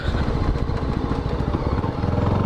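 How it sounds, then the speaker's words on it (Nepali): A CFMOTO 250NK motorcycle ridden in sport mode gives a loud, close, steady engine drone with a throbbing rumble, continuous across the whole stretch. "अहिले चाहिँ स्पोर्ट मोडमा राइड गरिरहेको छु मैले"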